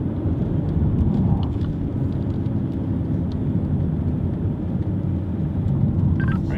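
Racing Corvettes roar around a track in a steady, loud engine drone with continuous rumbling road noise throughout, no voices heard.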